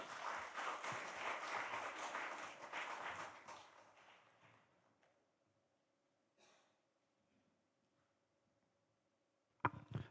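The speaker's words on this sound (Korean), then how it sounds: "임현묵 목사님을 모실 때 여러분 큰 박수 부탁드립니다" An audience at a church leaders' seminar claps to welcome a pastor, a brief burst of applause that fades out within a few seconds, followed by near silence and a faint thump at the very end.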